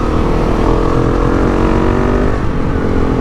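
A KTM 690 Enduro R single-cylinder motorcycle on a mountain trail ride, its engine droning loud and close at a steady moderate rev, with wind noise throughout and no talking.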